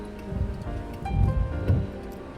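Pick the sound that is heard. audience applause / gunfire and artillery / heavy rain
heavy rain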